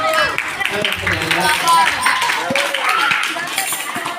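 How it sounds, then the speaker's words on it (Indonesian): Audience clapping fills a religious lecture hall during a Maulid sermon, a dense steady patter of many hands with voices talking over it. "Coba tepuk tangan dulu."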